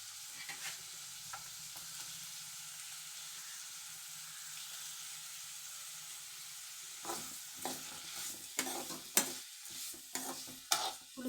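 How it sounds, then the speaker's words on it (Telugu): Large onion pieces fry in a pan with a quiet, steady sizzle. Partway through, louder scraping and clattering stir strokes start up close by, with no voices. "అవి మగ్గినాయి కదా, ఉల్లిపాయ ముక్కలు వేస్తున్నాను."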